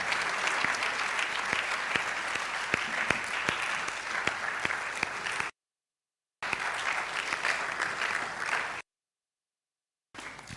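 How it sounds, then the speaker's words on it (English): A lecture audience at a medical college public lecture in Ghana applauds the speaker with steady, dense clapping. The sound cuts out twice before resuming. "A sounding round of applause for our speaker."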